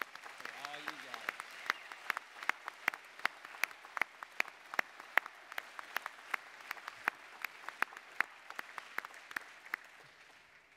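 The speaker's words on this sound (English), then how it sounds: "everyone in this room deserves a huge round of applause for supporting this great cause" Applause from an audience at an evening tribute dinner for sportsmen and an honoree, with steady clapping building over about ten seconds at moderate distance, a brief voice near the start.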